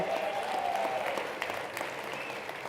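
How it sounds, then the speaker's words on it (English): Audience applause for event sponsors at a ski talk night in a sports shop setting, steady dense clapping throughout with a faint tonal whine over it. "Let's clap for them, please."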